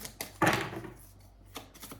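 Tarot cards shuffled by hand, a few soft, quick riffling and tapping bursts, close and quiet, with pauses between them.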